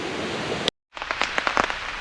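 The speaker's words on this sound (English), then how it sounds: "it started to rain" Steady rain hisses, briefly cuts out, then returns with scattered drops pattering close by on a surface.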